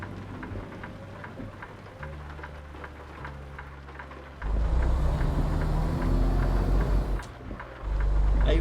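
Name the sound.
rain on truck body in American Truck Simulator video game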